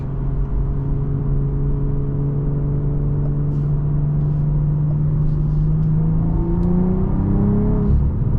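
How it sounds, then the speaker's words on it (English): An engine hums steadily from inside a 2023 BMW M340i, its pitch climbing smoothly as the car speeds up, with no talking. "the acceleration on this car is incredible"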